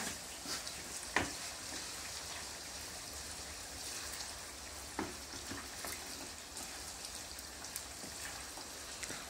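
Potatoes for a Spanish tortilla frying in plentiful oil, a soft, steady crackle with a few sharper pops and clinks, fairly quiet and close, with no talking.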